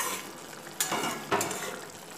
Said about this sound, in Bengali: নেড়ে গ্যাসের আঁচটাকে বাড়িয়ে আরও 2-3 মিনিট আমি ভালো মতো ফুটিয়ে নেব